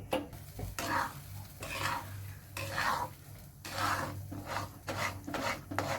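Maswadi flour mixture being stirred in a pan makes repeated rhythmic rasping scrapes, about one stroke per second, close and moderately loud with no talking.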